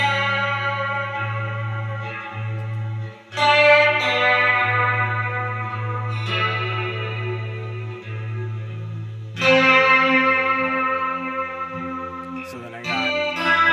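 Electric guitar chords ringing out with heavy delay and reverb, notes sustaining and echoing into long washes, played alone with a few strummed changes.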